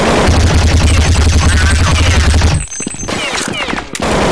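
Counter-Strike gunfire shoots through boxes: loud, rapid automatic shots stutter in fast bursts, then drop to a quieter gap before more shots resume, with a low game hum underneath.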